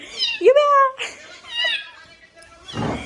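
A cat lets out a drawn-out meow near the microphone, followed by softer meowing sounds and a brief rustle at the end.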